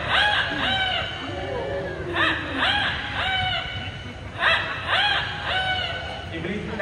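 An Amazon parrot imitating a rooster crow at a bird park show, repeated bursts of raspy crowing calls over a busy crowd murmur with laughter and chatter throughout.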